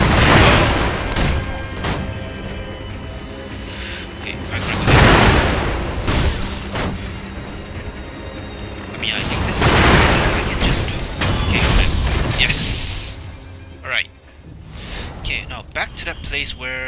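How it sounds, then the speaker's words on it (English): Firecracker blasts in the video game Sekiro: Shadows Die Twice, several loud booming pops and crackling bursts at irregular intervals, mixed with game combat sounds and a player talking over the action. "Firecracker."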